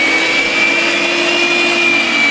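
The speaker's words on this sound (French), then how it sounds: "je vais hacher tout" Electric chopper whirring at full speed while chopping cooked, deboned meat: a loud, steady, close motor whine with a high tonal hum and no pauses.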